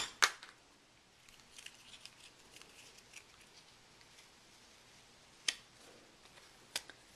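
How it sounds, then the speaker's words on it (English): Scissors snip off a piece of backer paper during card making: a sharp close cut near the start, a few faint ticks and rustles, then two more crisp snips near the end, all quiet and without talk. "I'm going to snip off this piece of backer paper right here"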